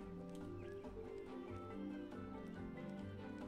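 Hooves of a horse in a medieval blacksmith-shop video game clip-clop steadily, mixed with a neigh and layered over the game's continuous music throughout.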